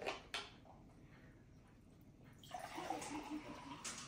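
A FIZZpod bottle of fizzy soda water is opened with a faint release, then a louder, sustained hiss of bubbling carbonation fills the second half.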